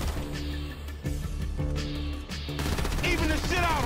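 Gunfire in Grand Theft Auto V, with sharp repeated shots over a dense, loud game soundtrack and background noise, and a voice speaking under the mix.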